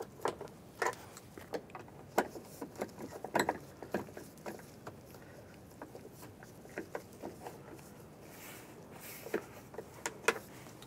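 Small screws being started into the headliner while fitting a sun visor in a 2002-2008 Dodge Ram 1500, heard as quiet, irregular ticking and ratcheting clicks spread through a calm interior.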